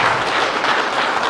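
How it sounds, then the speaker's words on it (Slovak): An audience claps throughout at a book presentation, a dense, loud and even wash of applause with no voice heard over it. "Zaslúžia si potlesk."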